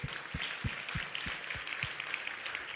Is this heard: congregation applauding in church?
yes